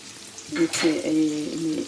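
Onions frying in a pan with a ground paste of ginger, chili and onion added, for a potato and peas fry; a steady sizzle with a louder burst of frying partway through, close and alone.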